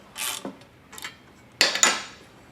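A nylock nut tightened onto a bolt, a few short scraping, ratcheting bursts of metal turning, close and separated by brief pauses.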